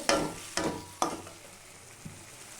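A spatula scrapes and stirs boiled peas and potatoes in a hot pan for vegetarian ghugni, three sharp strokes about half a second apart over a soft sizzle, then a fainter fourth.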